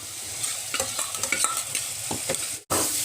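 Spices and poppy seed paste fry with ridge gourd in a pan, a close sizzle broken by repeated spatula scrapes and taps, then a brief dropout before the frying hiss returns.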